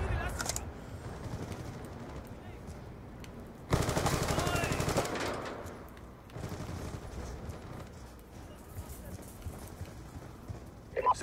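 Rapid automatic fire from the Peacekeeper gun in Black Ops 2 on the Hydro map, heard as a loud sustained burst in the middle with quieter scattered shots and game noise before and after.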